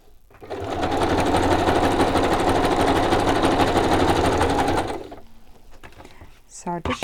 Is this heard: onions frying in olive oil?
no